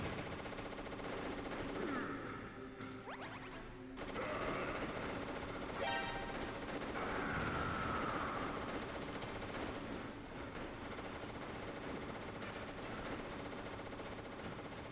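Sustained gunfire in Metal Gear Solid on extreme difficulty, continuous shots and rattling bursts that run throughout, moderately loud and dense with a few sharper electronic blips mixed in.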